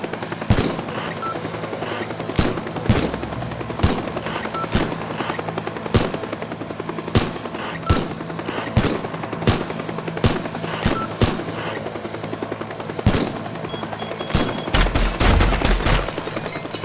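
An attack helicopter in Teardown fires sharp, evenly spaced shots roughly every second over a steady rotor drone, with a denser rapid volley near the end.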